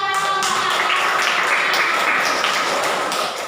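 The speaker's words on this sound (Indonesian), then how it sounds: "Berikan tepuk tangan dulu ya." A group of people in a classroom clap their hands in applause, a dense, steady patter of many claps that continues throughout at fairly loud volume, with no speech.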